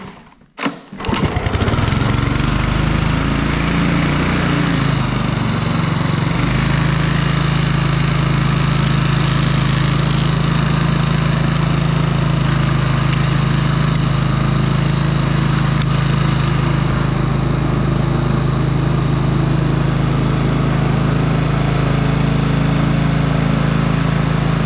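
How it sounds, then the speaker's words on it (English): A Honda Harmony 215 self-propelled lawn mower engine starts up and then runs steadily and loudly up close, a constant drone that holds with no one speaking. "so I'll fire it up and we'll try slipping it"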